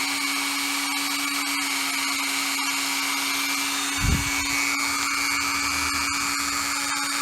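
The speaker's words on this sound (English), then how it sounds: "Then all you do is take your Dremel." A Dremel rotary tool whines at a high, steady pitch near at hand while cutting into a store security tag, with a brief grinding burst partway through and no talking.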